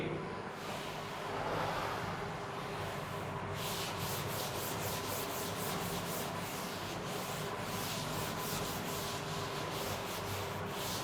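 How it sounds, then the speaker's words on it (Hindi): A board is rubbed clean during a classroom optics lecture: a continuous coarse scrubbing, close and steady, that turns into quick rhythmic back-and-forth strokes in the second half. "चलिए अब इसको रब करते हैं ना, देखिएगा।"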